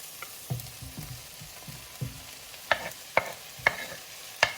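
Silver beet (Swiss chard) fries in butter in a small pan, with a soft sizzle under a series of bumps and clatters as the leaves are stirred and turned, then several crisp spitting pops; no talking.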